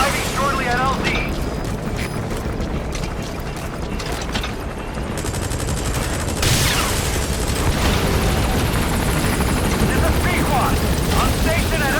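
Helicopter arriving at a landing zone in Metal Gear Solid V: The Phantom Pain, a steady loud rotor and engine roar running throughout, joined by distant booms and bursts of gunfire, with game voices over it.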